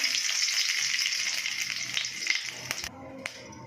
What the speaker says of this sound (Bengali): আমি কড়াইতে তেল দিয়ে দিচ্ছি। আমি এই তেজপাতা আর জিরেটা দিয়ে দেবো,